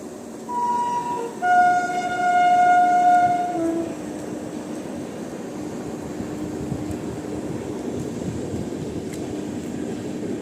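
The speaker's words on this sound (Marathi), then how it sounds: "आपल्या मागे पुणे एक्सप्रेस चालली आहे ही." Pune Express train rolling past near Palasdari dam, opening with several clear horn blasts, one long and loud, then a steady rumbling clatter of wagons that continues, fairly close and loud, with no talk.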